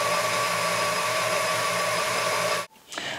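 An electric mixer whisks a cream cheese marshmallow mixture with a loud, steady whirring hum close by, then cuts off abruptly near the end.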